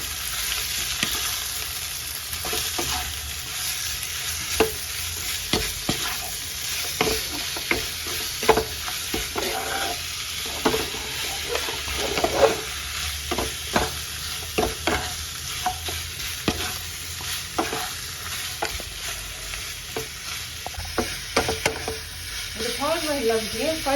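Garlic pork sizzles steadily in a pan, frying loudly and continuously while a utensil scrapes and stirs in irregular clicks, with brief speech now and then.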